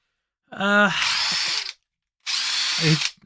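Two short bursts of a Parkside cordless impact wrench, each starting with a rising whine into hammering rattle, separated by a brief pause.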